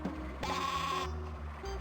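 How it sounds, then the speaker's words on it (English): Sheep in the video game Spy Fox 2 bleat, one short bleat followed by a longer, louder one, both clear and close with no talking. "Stereo sheep."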